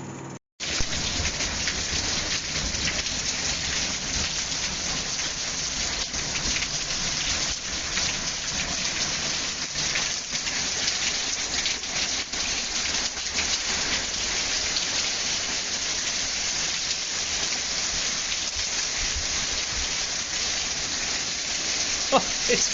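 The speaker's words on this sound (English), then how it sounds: "we had crazy amounts of rain, and I'll put a clip up about that" Heavy rain pours steadily and loudly outdoors near a greenhouse during a September storm, a dense unbroken hiss of drops that continues throughout without pause.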